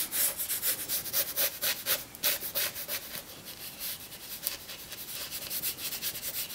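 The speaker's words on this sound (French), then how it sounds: "Alors je frotte, ça va se déposer, ça va faire des graphismes." Acrylic paint rubbed onto a canvas with a dry, scratchy brushing texture, repeated quick strokes in a steady rhythm, close and fairly quiet, with no talking.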